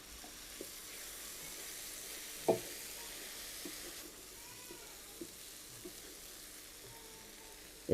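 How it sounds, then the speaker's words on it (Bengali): Ground coriander, chilli and turmeric with a spoonful of water cook in a pan for fish rezala, a faint, steady sizzle close by with a few soft knocks of a spoon, otherwise quiet. "এই মশলাগুলো এখন আমি ভালো করে একটু কষিয়ে নিব"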